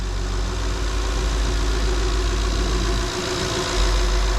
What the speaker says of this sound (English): Toyota 4runner Limited with the V8 and four-wheel drive package.